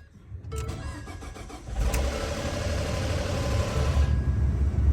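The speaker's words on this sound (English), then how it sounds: "we'll try to start the vehicle" A 2014 Ford F-150 pickup truck engine cranks and catches, then settles into a rough, rumbling idle that grows slightly louder, close by with no talking.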